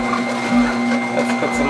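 A Kedemas slow masticating juicer runs with a steady mechanical whir and grinding hum while crushing beet stalks and leaves, close and continuous, with slight rises in strain.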